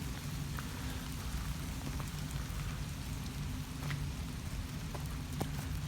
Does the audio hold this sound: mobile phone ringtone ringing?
no